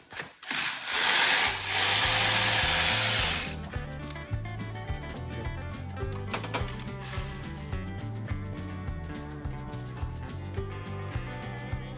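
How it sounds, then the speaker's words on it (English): A ratchet wrench clicks away on a Chevy Blazer engine during a cylinder head swap, quick repeated pawl ticks in close uneven bursts after a short loud hiss of air or spray at the start. "I'm gonna ratchet over this"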